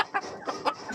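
A chicken from Batangas clucking close by, three or four short, throaty bursts in quick succession.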